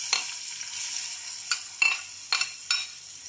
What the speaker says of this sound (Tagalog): igisa muna natin ang ating onion